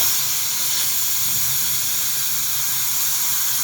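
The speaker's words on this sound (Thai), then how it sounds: "ปล่อยแรงลมเขาออกให้หมดนะคะ" A steady, loud hiss of steam venting continuously from a pressure cooker cooking braised chicken, unbroken and close for the whole stretch, with no talking.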